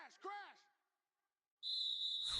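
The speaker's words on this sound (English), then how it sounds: "we get a whistle and a timeout" A referee blows a shrill, sustained whistle at an American football game involving the Bengals. The blast starts loud and steady after a brief voice and a moment of silence.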